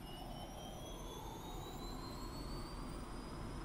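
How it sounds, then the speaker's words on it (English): The jet engine of a Su-25T attack aircraft in the DCS flight simulator spools up with a steady, loud roar and a rising whine that climbs in pitch throughout. "You see how long it takes the engine to spool up and go?"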